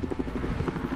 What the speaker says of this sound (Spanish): Oh, ahí está el helicóptero.